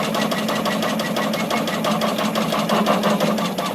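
An embroidery machine stitching a puffy foam letter onto a hat, a fast steady mechanical chatter of needle strokes with a motor hum beneath, close and continuous.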